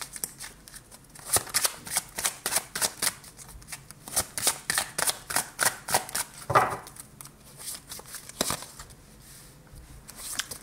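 Tarot cards shuffled repeatedly for a reading, a run of quick papery riffles and flutters in close succession with a few sharper snaps, near and moderately loud, with no talking.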